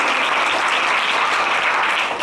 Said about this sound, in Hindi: ताली बजाइए रवि के लिए।